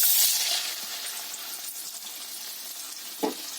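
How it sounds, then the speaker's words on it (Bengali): Soaked, drained chana dal fries in hot oil with a steady, close sizzle that eases slightly after the first moment, with one brief knock near the end. "এবার এটা আমি তেলে ভেজে নেব।"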